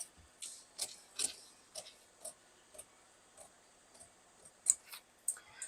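Scissors cut boat neck blouse fabric in a series of sharp, separate snips with short pauses between them. Close up and quiet, no talking.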